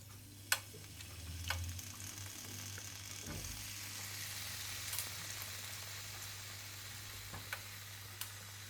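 Chicken sizzles on a grill pan with a faint, steady frying hiss, broken by a few soft ticks and clicks of utensils.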